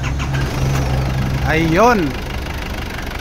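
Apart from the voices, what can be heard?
Isuzu Trooper 4JX1 engine starting and idling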